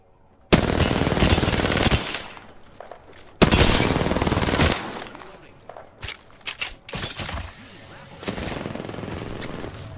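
Sniper and automatic gunfire in the Apex Legends video game, with two loud sustained bursts followed by scattered sharp shots and a later rattle of fire.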